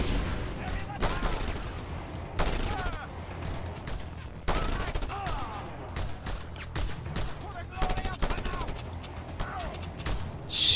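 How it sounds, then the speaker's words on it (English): Repeated bursts of submachine gun fire in the open-world game Just Cause 2, sharp volleys recurring through the stretch amid game noise, with voices talking over parts of it. "he's got an SMG"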